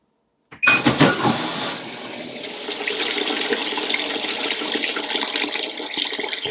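A Miele W1 washing machine, broken after one year, starting with a click and then filling with cold water in a steady rushing hiss that keeps running close by.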